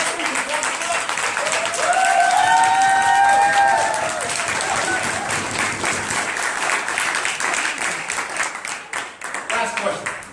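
An audience claps at an annual closing ceremony, a full burst of applause that peaks early then carries on steadily with some cheering and whoops mixed in, fading slightly toward the end.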